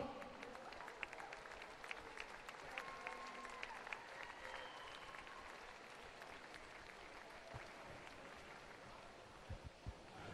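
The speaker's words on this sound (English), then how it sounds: "Big round of applause for John" Faint, distant applause from a crowd at a county swimming championship, a steady patter of many hands clapping in a large echoing space, continuing throughout.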